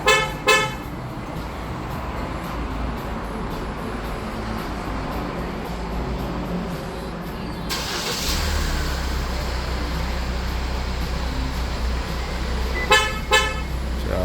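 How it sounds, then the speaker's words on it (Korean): A Kia Sportage parked outdoors is started by remote, with short horn toots at the start and again near the end. Between them a low engine idle rumble begins and runs on steadily under faint background noise. "원격 시동 완료되었고요."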